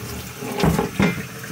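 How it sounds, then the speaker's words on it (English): Tap water runs into a sink while cleaning rusty pinball machine legs, a steady splashing wash with two louder surges, close and alone without talk. "You just use warm water or cold water"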